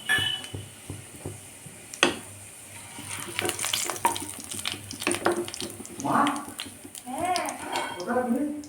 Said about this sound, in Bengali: এর মধ্যে দুটো তেজপাতা আর এক চামচ জিরে ফোড়নে দিলাম